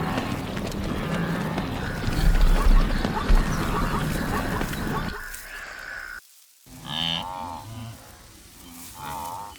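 A migrating herd of wildebeest on the Kenyan savanna, with loud overlapping low grunting calls close by over a constant rumble, fading to sparser honking calls later.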